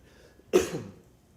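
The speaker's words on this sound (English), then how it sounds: "now I'm coughing" A single short cough, close and abrupt, fading quickly into quiet room tone.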